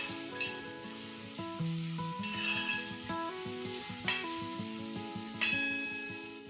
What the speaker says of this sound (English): I'm going to add a teaspoon of ginger paste and a teaspoon of garlic paste. Just fry this till the raw smell goes off.